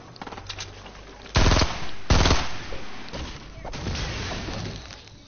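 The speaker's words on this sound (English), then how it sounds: "That was probably me shooting." Gunfire in an online video game, two loud close bursts of rapid shots about a second apart, standing out over a low background of game noise.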